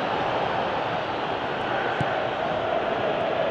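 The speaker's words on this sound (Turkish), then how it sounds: "Müthiş bir kalabalık var. Müthiş bir uğultu." The stadium crowd in the PES 2017 football game keeps up a constant, even roaring hum, with a few faint cries rising from the dense wash of noise.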